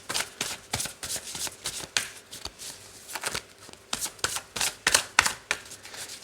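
Tarot cards shuffled by hand, a close rapid series of papery riffles and slaps in uneven bursts, loud and clear with no talking.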